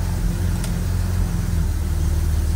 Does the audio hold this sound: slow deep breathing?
no